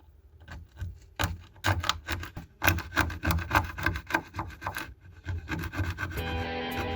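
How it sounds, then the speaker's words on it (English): A screwdriver scrapes loose ballast off a model railroad layout, producing a run of dense rasping strokes in an irregular rhythm, close and moderately loud, with no talking. "I need to get rid of some of the ballast so that the sides lay nice and flat. I'm just going to do that with a screwdriver"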